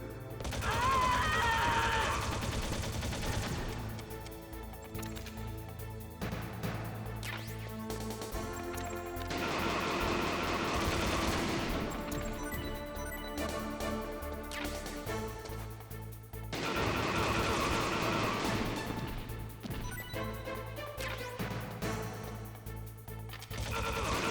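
Gunfire in the video game Metal Gear Solid, with repeated sharp shots and bursts over dense, loud game music and effects that fill the whole stretch.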